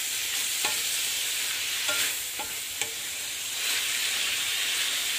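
Adobong sitaw, string beans with a little pork, fries in a pan with a steady close sizzle, broken by a few light scrapes as it is stirred.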